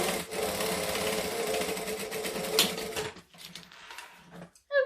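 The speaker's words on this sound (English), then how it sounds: "And then I'm going to stitch the other side shut." Sewing machine stitching the side of a zip-around wallet shut, a close continuous mechanical whirr lasting about three seconds, then stopping into scattered clicks and handling noises.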